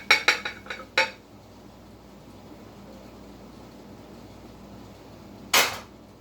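Sesame beef stir fry slid onto a plate, with quick metallic clinks of a pan and utensils at the start, a quiet stretch, then one more sharp clatter of dishes near the end.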